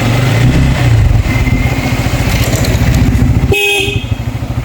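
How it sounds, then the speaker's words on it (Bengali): A motorcycle's horn gives a short, loud toot near the end over the steady, close rumble of the bike's idling engine, as a young girl is taught to ride. "এত কাছে এসে হর্ন দিলে হয়?"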